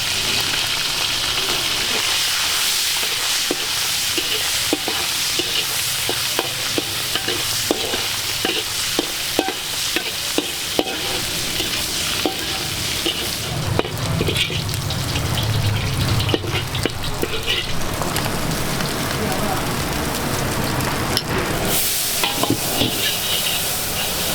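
Nasi goreng Pattaya with beef frying in a wok at a busy Banda Aceh stall: loud continuous sizzling with repeated metallic scraping and stirring strokes, plus a brief burst of running water partway through.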